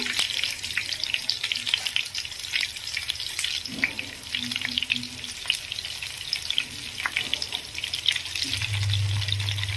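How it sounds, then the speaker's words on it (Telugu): Stuffed eggplants with masala, curry leaves and dried red chilli frying in a pan, a steady broadband sizzle with occasional stirring clatter and a brief watery swell near the end, no talking. "కొంచెం కరివేపాకు ఇవి వేగిన తర్వాత మనం ఆల్రెడీ కలిపి పెట్టుకున్నాం కదా మసాలాదిని వంకాయల్ని యాడ్ చేసుకుందాము"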